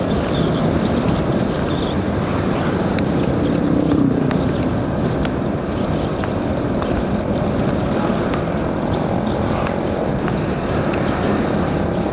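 A loud, steady motorcycle exhaust drones on without a break, mixed with rushing wind noise.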